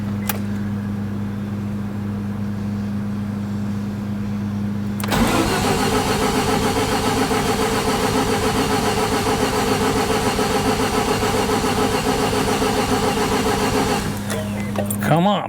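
A Mazda RX7 being revived cranks on the starter with a low idle-like drone, then about five seconds in the engine catches into a loud, sustained running roar for roughly ten seconds before dropping back, with voices around it.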